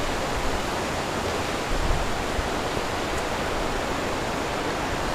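A river stream flows along a rocky riverbank in Padang, heard as a steady, loud, broadband rush of water that stays even throughout with no voices.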